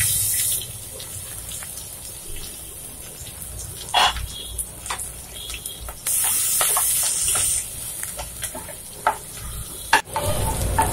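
Ginger, garlic, green chilli and onion frying in hot oil, a close crackling sizzle that surges loudly partway through, with clattering utensil knocks and a sharp clank near the end.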